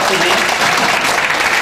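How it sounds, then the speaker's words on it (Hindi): Farmers applaud at a fertilizer company's farmer meeting in Bihar, a dense, steady wash of clapping that fills the whole short stretch at close range, with voices mixed into the crowd noise. "आप सभी किसान बंधुओं से आग्रह है कि तालियों के साथ उनका स्वागत कीजिए"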